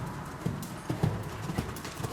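Horse hooves cantering in an arena, a run of soft, muffled thuds in an uneven rolling rhythm, fairly close against a steady background.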